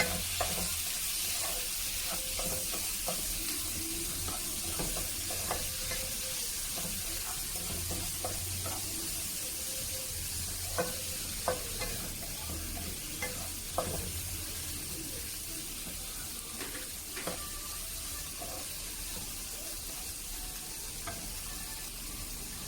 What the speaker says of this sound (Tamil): இந்த தக்காளி நல்லா பேஸ்ட்டாக ஆகிற அளவுக்கு நல்லா வதக்கிக்கலாம்.